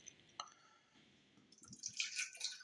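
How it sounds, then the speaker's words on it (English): Rogue Pumpkin Patch Ale is poured from a tall boy can into an old Michelob tumbler, a brief faint trickle and splash that swells into a brighter fizzing patter near the end. "The wrong pour from a tall boy into an old Michelob tumbler"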